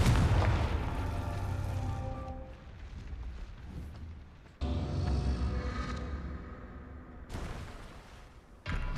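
Confringo fire blast spell in the game Hogwarts Legacy, heard as repeated booming explosive blasts, loud and close, each trailing off before the next bursts in, with no voices.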